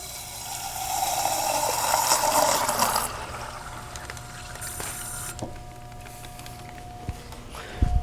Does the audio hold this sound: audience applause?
no